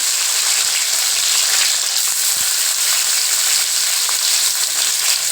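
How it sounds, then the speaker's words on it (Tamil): Onions, tomatoes and ginger sauté in oil in a kadai, a steady, even sizzle running without a break, with no voices. "போட்டு இதை நல்லா வதக்குங்க இது நல்லா வதங்கட்டும்"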